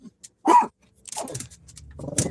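Dogs barking across the street, a loud close yelp or bark followed by rougher growling and barking that builds toward the end of the short stretch.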